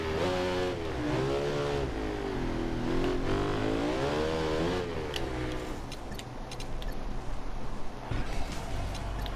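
A motorcycle engine in the Ride 2 racing game is held in third gear through a drift, a close, continuous buzzing roar whose pitch rises and falls in wavering sweeps before settling into a rougher, steadier drone.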